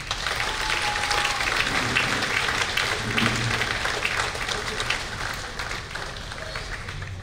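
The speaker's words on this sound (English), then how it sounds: "One more round of applause for the symphonic band." At a high school spring band concert, the audience gives the symphonic band a lively round of applause, dense clapping with faint crowd murmur that continues throughout and eases slightly toward the end.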